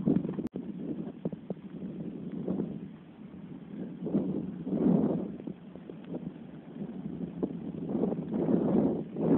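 Wind gusts across open rocky ground on an off-grid property, a steady breathy rumble that swells and fades in waves, close to the microphone, with no one speaking.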